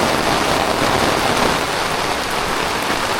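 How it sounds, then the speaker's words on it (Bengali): Steady rain pours down continuously over a large fish market, a dense hiss of drops striking surfaces with no voices. "বৃষ্টির শব্দ কেমন লাগতেছে আপনাদেরকে"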